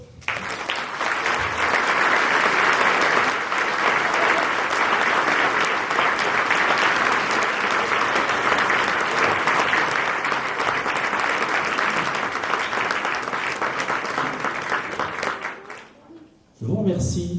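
An audience at a town's New Year's greetings ceremony in Angresse applauds the team loudly and steadily for about fifteen seconds, a dense sustained clapping that fades out before a voice begins speaking.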